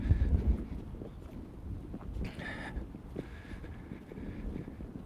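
Wind blowing outdoors, a steady low rumble of gusts buffeting the microphone, loudest at the start and easing to a constant, moderate roar.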